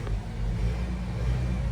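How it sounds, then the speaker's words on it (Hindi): A Force Traveller 20+2 seater school bus sits idling just after start-up, with a steady low diesel rumble holding even and close throughout, no revving or talk. "क्लच दबाया, गाड़ी स्टार्ट हो गई है।"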